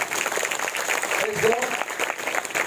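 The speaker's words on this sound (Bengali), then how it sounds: "জোরে একবার হাততালি দেওয়া যাবে না?" A church congregation claps at a Christian testimony meeting, a dense, sustained patter of many hands at close range with voices mixed in.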